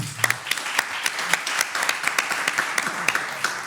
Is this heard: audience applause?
yes